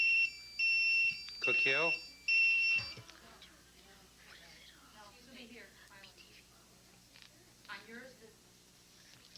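A quiz contest buzzer sounds in three loud, sustained electronic bursts near the start, followed by voices talking in a hall.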